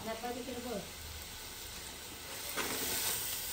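Whole spices and ground masala sauté in a hot pan for Hyderabadi biryani, a steady broadband sizzle that swells louder near the end, with a voice briefly heard at the start.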